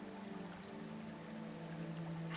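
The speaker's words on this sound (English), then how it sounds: "You can hear a waterfall." A waterfall's steady broadband rush of falling water plays continuously, blended with a sustained low tonal drone, moderate in level and slowly swelling toward the end.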